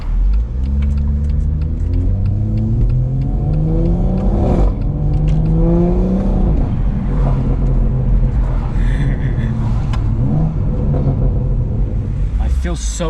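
BMW M140i art car being driven, its engine note rising and falling through gear changes with a deep rumble, while someone talks over it.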